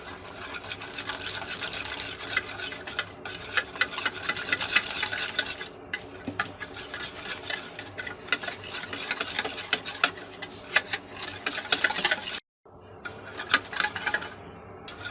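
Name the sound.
stirring gram flour batter with water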